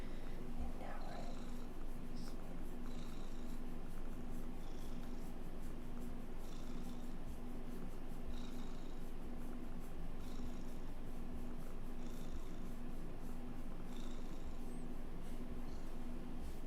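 Soft, steady purring of a house cat close to the microphone, a continuous rhythmic rumble with faint background noise throughout.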